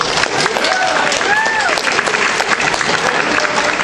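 Audience clapping at a fan convention creepypasta panel, dense loud applause throughout with a few brief voices and whoops rising over it.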